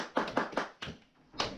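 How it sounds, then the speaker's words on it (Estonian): A few slow, separate hand claps, about five in a sparse uneven rhythm, close and fairly quiet, with no crowd behind them. "Aplausi palun, keegi."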